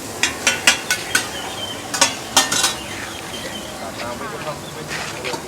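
Mixed seafood fried with egg at a street food stall, with a run of sharp metal spatula scrapes and clanks against the pan over a steady sizzle, followed by a few more spaced scrapes.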